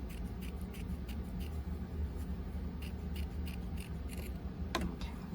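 Scissors trimming across a fabric seam allowance while sewing a breast form, a run of quick, soft close snips over a low background hum.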